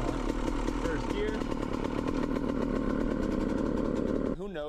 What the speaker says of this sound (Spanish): this motor needs to come out because that is an aggressively rough shift into first gear